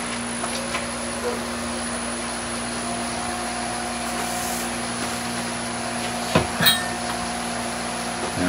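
A wood lathe runs for woodturning with a steady, even motor hum and whine, with a couple of brief clunks partway through.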